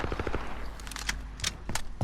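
Rapid automatic gunfire from a Modern Warfare kill cam replay, with a quick close burst of shots followed by a few louder separate cracks and bangs.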